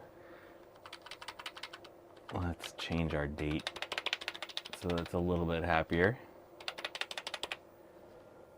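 Rapid clattering keystrokes on the keyboard of a 386/486 hybrid PC in a plain AT-style case, close and crisp, in bursts before and after someone speaks.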